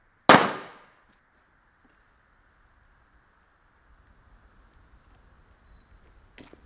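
A single sharp gunshot rings out in an action movie scene. It is loud and sudden and decays quickly into near silence. Faint birdsong and a few small clicks follow.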